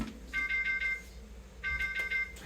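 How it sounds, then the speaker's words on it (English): An electronic alarm rings in two short bursts of rapid, warbling tones, each lasting under a second, separated by a brief pause. "Let's cut this alarm off."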